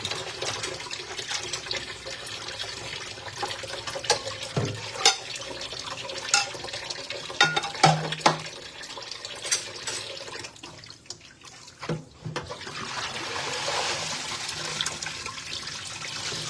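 Tap water running into a sink during dishwashing, a continuous rushing splash with occasional clinks and knocks of dishes, fairly close and steady, with no talking.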